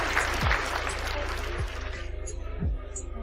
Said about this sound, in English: Give her a round of applause, please, Annie.